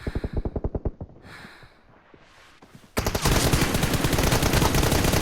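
Rapid automatic gunfire in PUBG Mobile played on a Poco X3 Pro phone: a quick burst of evenly spaced shots, a short lull with softer game sounds, then a loud, dense sustained volley of rapid fire.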